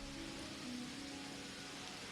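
Rain falling in the Wuthering Waves game, a steady soft hiss that stays even for the whole short stretch, with a faint low tonal hum beneath and nobody talking.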